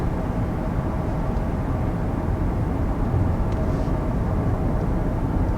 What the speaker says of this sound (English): Alright, so setting off in the 2019 Murano. Initial takeoff is pretty good.